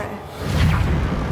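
Casting the Reparo repair spell in Hogwarts Legacy brings a brief, swelling magical whoosh with a low rumble that builds and holds for about a second.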